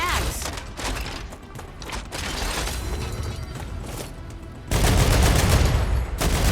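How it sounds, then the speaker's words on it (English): Gunfire in the sci-fi survival base-building game StarRupture, rapid bursts of shots with mechanical clatter that swell into a louder sustained volley near the end. "If you fire enough bullets, statistically, some of them should hit."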